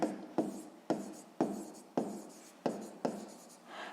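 A pen writes on paper during a sixth-grade maths exercise, making seven or eight crisp scratching strokes in a steady rhythm, each starting with a sharp onset and fading quickly, close and clear without speech.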